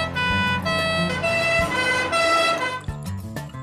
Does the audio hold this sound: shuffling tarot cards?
no